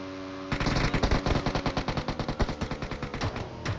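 Rapid automatic gunfire in the battle royale game PUBG, a fast burst of loud repeated shots after a brief quiet start, continuing in a steady rhythm to the end.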